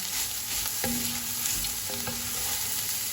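Cabbage fries in a pan with a steady, faint background sizzle. Two brief scrapes of a utensil stirring come through close by, and no one speaks.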